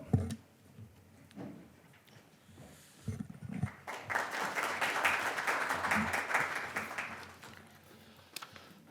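Applause at a Korean policy forum on digital therapeutics rises after a few seconds of low murmur and scattered claps, a broad steady clatter of many hands that continues through the end.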